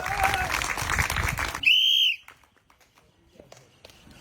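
An audience claps for a contestant at a fun game of shooting footballs at a rotating goalpost, with dense clapping for about a second and a half, cut off by a short shrill whistle, then near silence.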